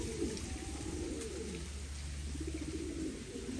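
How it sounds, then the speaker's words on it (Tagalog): Racing pigeons arriving at the loft after a 140 km club training flight, with soft repeated cooing and bird calls close by over a steady low background rumble. "Parating nating ibon."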